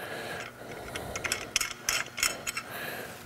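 Self-locking nylock nuts are threaded by hand onto the carriage bolts of towing mud flaps, giving a short run of small metallic clicks and ratcheting ticks close by, with no talking.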